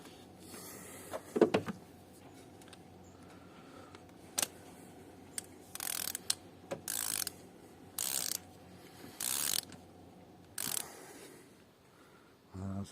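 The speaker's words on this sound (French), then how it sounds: "On vient mettre gentiment la clé à bougie." Spark plug socket wrench ratcheting on an engine spark plug during a plug replacement, a series of short, quiet clicking bursts at fairly regular intervals, close up in an otherwise quiet space.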